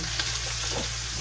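Aromatics sautéing in a pan until browned while cooking bottle gourd (upo), giving a steady, close frying sizzle with soft stirring texture throughout.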